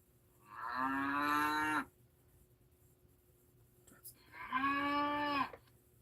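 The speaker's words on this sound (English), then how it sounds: "a cow moo." Two long, loud cow moos from a cattle sound effect, each lasting over a second with a separate pause between them, heard clearly with no talking.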